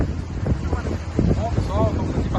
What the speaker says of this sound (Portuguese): Um passeiozinho de lancha básico.